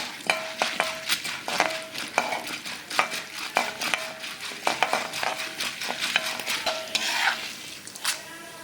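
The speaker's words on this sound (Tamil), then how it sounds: "உளுத்தம்பருப்பு பொரியும் போதே நம்ம கடலை பருப்பு ஆட் பண்ணிக்கலாம்" Urad dal and chana dal fry in oil in a pan for banana flower chutney, with a soft sizzle under rhythmic scraping and stirring of a spatula against the metal pan.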